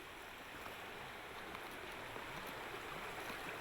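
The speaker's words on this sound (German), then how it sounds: "Aber entlang des Wegs spielt eine lebensfrohe Melodie des Wassers." A mountain stream beside an alpine path in the Tegernsee mountains in spring, heard as a steady, broad rush of flowing water at moderate level with no voices.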